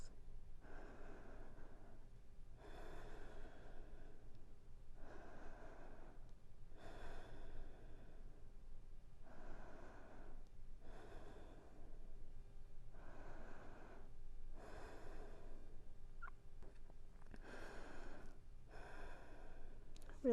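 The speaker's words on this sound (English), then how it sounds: "taking 5 deep breaths" Slow, deep breathing held in a yoga forward fold for lower back relief, about ten soft, even inhales and exhales in steady rhythm, close and quiet with no talking.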